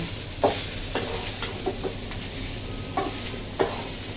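Rice frying in a pan is stirred with a utensil, giving steady sizzle under a few sharp scraping clacks spaced irregularly, close and moderately loud, with no talking.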